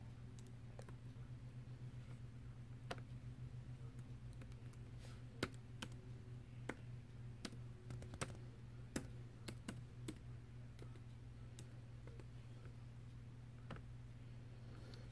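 A password is typed on a Dell Inspiron laptop keyboard as quiet, irregular key clicks, some in quick bursts and a few sharper taps, over a low steady electrical hum.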